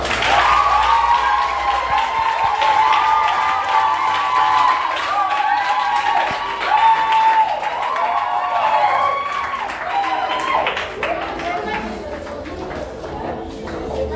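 A church congregation applauds and cheers at length, steady clapping and raised voices filling the room, with a preacher talking over the crowd.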